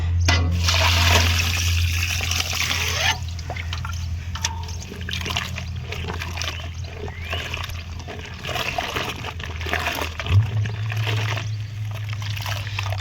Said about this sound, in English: My water is almost running clear, so I'll just rinse a few more times